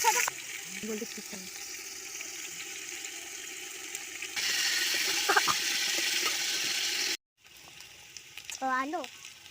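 Potatoes sizzle as they fry in hot oil for a mutton curry, a soft steady crackle close by, with brief stirring scrapes and a short pause near the end.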